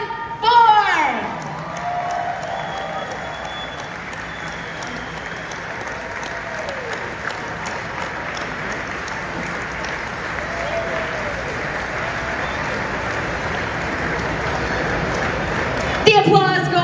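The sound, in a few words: audience applause at fundraising dinner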